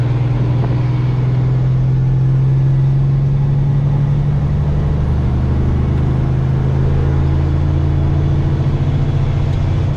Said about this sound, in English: European truck.